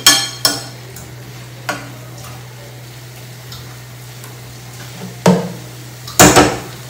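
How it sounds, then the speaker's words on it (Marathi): Wild kavali greens being stir-fried in a pan, a few sharp scrapes and knocks of a spatula against the metal over a faint low sizzle and a steady hum, with no talking. "आता फक्त जस्ट परतून घ्यायची भाजी"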